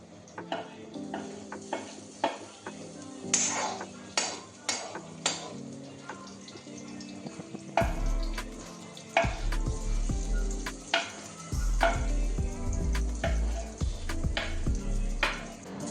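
Maggi instant noodles stirred and frying in a pan at home, a steady sizzle with repeated scrapes and clinks of a utensil against the pan, close up and without talk.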